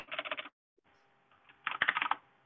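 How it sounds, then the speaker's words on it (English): Fast typing on a computer keyboard comes as rapid bursts of close, crisp key clicks, broken by a short pause and then a denser flurry. "Somebody's typing like crazy."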